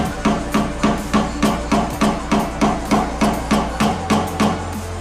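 Hammer tapping down a stretched crown around a dent in a car body panel backed with sound dampener, a steady run of about fifteen light, evenly spaced metallic taps, close and alone over a low hum.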